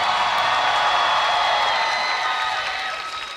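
A concert audience at the Camp Flog Gnaw festival gives sustained applause with scattered cheers, a dense wash of clapping that fades slightly toward the end.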